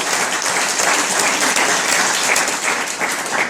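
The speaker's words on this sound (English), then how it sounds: "Can we give them a round of applause?" An audience at a Bonita Springs mayoral candidates' forum applauding, dense steady clapping from many hands that fills the room evenly for the whole stretch, loud and close.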